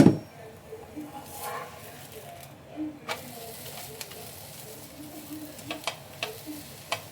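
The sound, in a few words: rice roti with dill and drumstick leaves cooking in oil on pan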